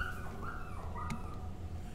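A dog in a video game whimpers and yips in high, wavering whines, followed by a short bark, steady and moderately close over a low background hum.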